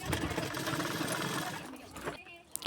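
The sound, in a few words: sewing machine stitching a katori blouse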